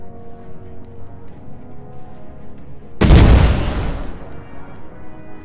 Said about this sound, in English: We also have blasting cannons.